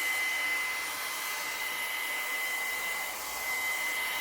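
A hair dryer blows steadily at close range over a holiday craft piece, a continuous loud airy whir with a thin high whine and no talking.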